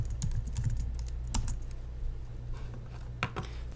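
Rapid clicking of keys on a computer keyboard, a close, busy patter of keystrokes with a few louder taps standing out.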